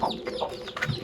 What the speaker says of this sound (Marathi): आता या पावसाळ्यामध्ये बसवल्या कोंबड्या